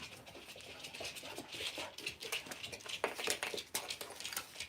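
Dogs whimpering and panting in quick, uneven breaths and soft whines, fairly steady across the whole stretch at moderate loudness with no talking.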